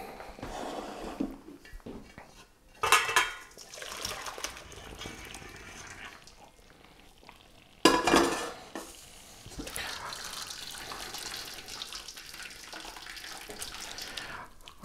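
Boiled potatoes for mashing are poured from a pot into a strainer, giving a loud rushing gush of water with two splashy surges and steady trickling in between, close by and with no one talking.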